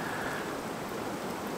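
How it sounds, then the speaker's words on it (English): Steady rain begins falling over a creek during a fishing outing, a constant broadband hiss of drops on water and surroundings, continuous and fairly close with no voices. "It's starting to rain."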